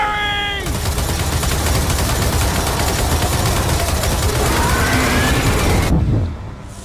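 Dense gunfire and explosions from the Gears of War 4 prologue roar in a continuous loud barrage, with a shouted voice near the start, before cutting off abruptly near the end.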